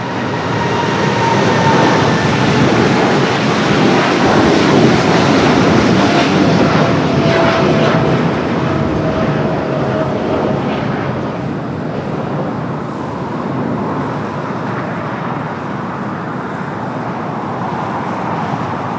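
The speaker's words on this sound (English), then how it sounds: "the Queen as Philippine Flight 113 heading back to Manila lifts off" Loud and sustained, a Philippine Airlines Boeing 747 bound for Manila rumbles and roars through its takeoff from LAX, the jet noise holding strong before slowly easing as it climbs away.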